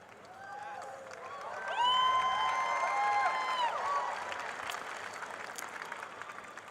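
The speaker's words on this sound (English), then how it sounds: "did they applaud for the word poem or for the word close?" A commencement audience applauds outdoors, a broad swell of clapping that rises, holds and slowly fades, with faint crowd murmur and tonal background sounds mixed in.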